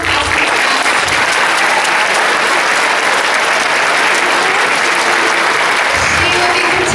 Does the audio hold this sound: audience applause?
yes